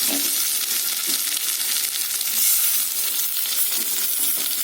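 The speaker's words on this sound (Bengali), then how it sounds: "পেঁয়াজটা একটু ভেজে দিই" Onion frying in a pan for a fish curry gives a steady, close, dense sizzle that runs evenly throughout, with faint stirring clatter and no voices.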